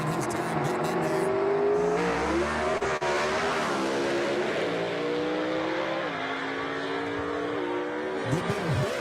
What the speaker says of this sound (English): Good bit of wheel spin right there for Leslie Horn as he had to short shift that thing.